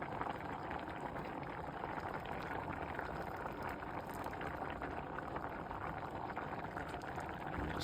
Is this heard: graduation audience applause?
no